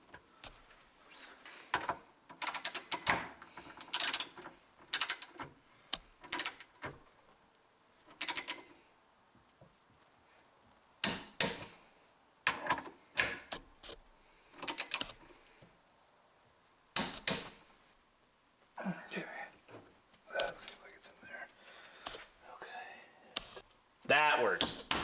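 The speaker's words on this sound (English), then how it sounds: "I went in with the torque wrench" A torque wrench ratcheting while tightening mod vices, sharp clicking bursts in scattered clusters, close and crisp, with brief quiet gaps between them.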